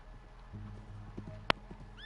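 A horse in Red Dead Redemption 2 moves with soft rhythmic hoof clops, a brief sharp whinny-like burst cutting through midway over a low ambient hum.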